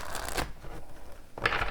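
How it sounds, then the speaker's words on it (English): A deck of tarot cards is shuffled close up in two quick riffling bursts with a short quiet gap between them. "I want to get a good shuffle here for you."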